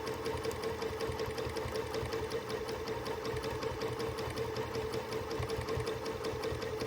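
A sewing machine runs steadily through free motion quilting on a Linus quilt, its needle pounding out a fast, even rhythmic chatter close to the microphone with no talk.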